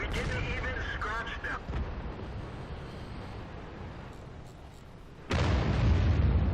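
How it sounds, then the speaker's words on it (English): Incoming artillery in a tank video game, a rumbling blast field that fades, then a sudden loud boom near the end, with a voice talking over the start. "Got artillery coming in."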